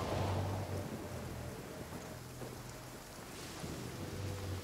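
Heavy rain falls in Genshin Impact as a dense, continuous hiss, with low rumbling thunder rolling underneath throughout.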